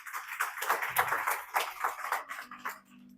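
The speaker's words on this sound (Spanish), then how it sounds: "Denle un aplauso fuerte al Señor." A church congregation breaks into strong applause during a Sunday service, a dense burst of close clapping that thins out and fades after a few seconds.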